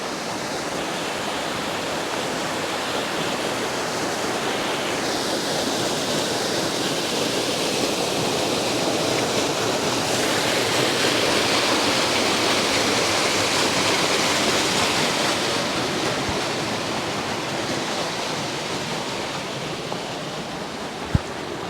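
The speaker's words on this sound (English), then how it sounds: "got a nice view of Clear Creek Falls here" Clear Creek Falls near Silverton, Colorado, roaring as a steady broadband rush of falling water, loud and close, continuous with no pauses and no voices.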